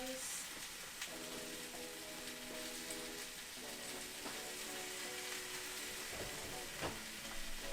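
Fajitas sizzle steadily in a hot pan, a continuous crackling hiss with occasional pops and scrapes, fairly quiet and close, with faint speech now and then.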